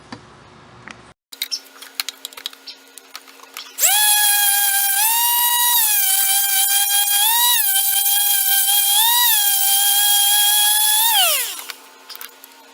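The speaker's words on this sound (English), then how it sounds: "running the sander over seems to loosen the adhesive, so it makes it easier to get it off" An electric sander runs over a chair to strip off adhesive, a loud, high whining motor that starts after some brief clicks and handling, holds steady with small pitch dips under load for about seven seconds, then winds down.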